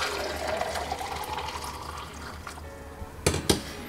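Coffee poured from a Cafe Du Chateau French press, a steady liquid stream trickling into a cup for about three seconds, followed by two sharp close knocks near the end.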